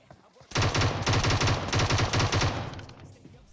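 Loud, steady automatic bursts from an M762 rifle fired in PUBG Mobile, one continuous stream of rapid shots lasting about two seconds before trailing off into quieter game ambience.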